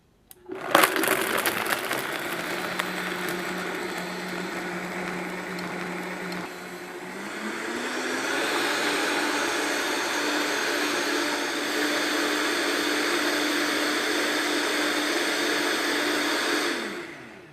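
A Vitamix Professional Series 500 blender runs on its frozen dessert setting, crushing ice with a rough crackling start. The motor then steps up in pitch and holds a loud, steady whine before cutting off at the end.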